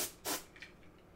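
An Ultra Duster can of compressed air gives a brief hissing burst while cleaning a Silicon Graphics O2+ workstation, with a faint softer puff after it.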